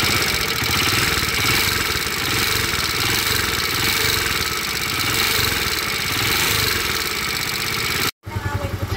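A small engine runs steadily after its rocker arm was replaced, a continuous mid-pitched idle with a rough, knocking texture that holds loud and close for about eight seconds before a brief cut and restart.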